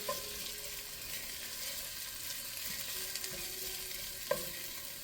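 Minced garlic fries and is stirred in a pan, making a steady soft sizzle with a few brief scraping knocks, close and moderately quiet, no talking.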